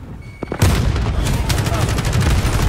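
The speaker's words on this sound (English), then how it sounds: "RPG, kaboom." Rapid gunfire bursts and a blast crackle through a shooter video game match at Shoot House as an RPG detonates, dense and loud, with a voice speaking over the action.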